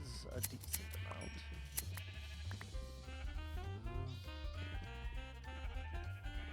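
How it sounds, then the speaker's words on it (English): Sheep bleat repeatedly in a video game, heard under steady background music and game sounds, with a voice talking over them at times. "we're probably approaching 60-ish sheep at this moment"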